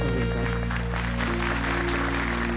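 Audience applause for a look-alike-voice singer on a Thai TV game show, a steady wash of clapping with a held musical tone underneath, continuous and fairly loud throughout.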